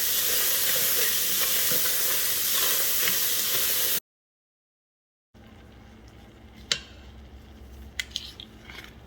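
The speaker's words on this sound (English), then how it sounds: "I'm also going to go ahead and add the carrots at the same time. We're just going to go ahead and let these sweat and soften up" Chopped onions and carrots sweat in a pot for an oil-free vegan potato soup, a soft low sizzle and steam hiss, then a short gap and quieter simmering with a few sharp clinks of a utensil.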